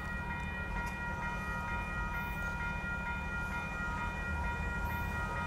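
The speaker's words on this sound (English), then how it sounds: "look at that train on its way to Los Angeles" An Amtrak Coast Starlight passenger train bound for Los Angeles, led by an Operation Lifesaver locomotive, rolls past with a steady, even rumble of wheels and cars, holding at moderate distance throughout.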